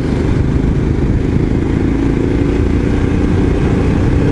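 Royal Enfield Scram 411 motorcycle ridden on roads through the Vosges, its engine a steady, loud, continuous drone with rumbling low end and wind noise, no voices.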